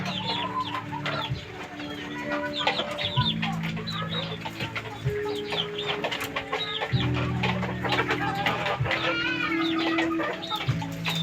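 Hens cluck continuously nearby, overlapping soft calls and chatter from several gamefowl hens with a steady low hum underneath.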